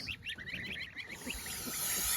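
A broody goose honks and cackles in a rapid run of harsh calls, close by and fairly loud, with farmyard noise beneath and no talk.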